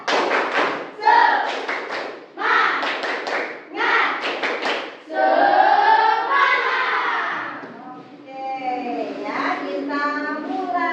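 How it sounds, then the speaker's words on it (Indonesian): A classroom of children performs the tepuk semangat clapping chant, rhythmic bursts of claps and thumps alternating with chanted voices, loud and close, ending in sung-spoken unison lines. "Sekarang sebelum belajar Ibu mau kita tepuk semangat"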